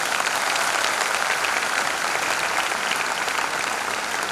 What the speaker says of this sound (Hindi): कम हो गई तो जोर से ताली बजाओ